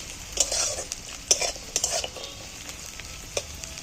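Cashew nuts stirred and fried in hot oil for egg biryani, giving a steady soft sizzle broken by several sharp scraping stirs of a utensil against the pan, close and fairly loud with no talking.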